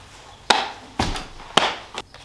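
A Hitachi nail gun fires in sharp, loud, percussive shots, three main hits about half a second apart plus a fainter one, close up with no speech.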